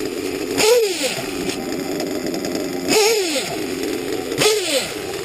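A modified engine fitted with Hypex racing pipes running after starting, a loud buzzing drone with three sharp revving blips rising and falling at regular intervals.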